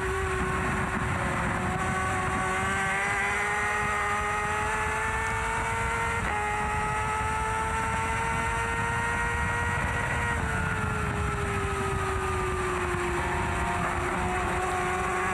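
A race motorcycle at full throttle on the Macau street circuit howls continuously and loudly, its engine pitch rising and dipping with gear changes over heavy wind rush, with no pause and no talk.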